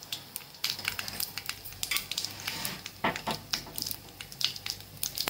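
Cumin and mustard seeds sizzling in hot oil in a pan for a moong dal dry curry: soft crackling and popping in quick irregular bursts over a faint frying hiss, with occasional scraping of a utensil.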